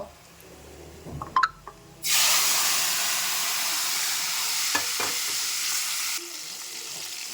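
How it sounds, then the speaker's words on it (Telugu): Cumin, mustard seeds, garlic, dried chillies and curry leaves hit hot oil with a sudden loud sizzle that settles into a continuous hiss, with a few clinks before and occasional crackles. "జీలకర్ర ఆవాలు చిటపటలాడితేనే టేస్ట్ వస్తుందండి"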